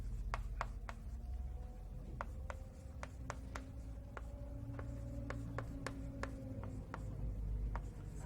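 During a linear programming lecture, chalk taps and scratches on a board in a quick, irregular series of sharp strokes, moderately close, over a low steady room hum with no speech.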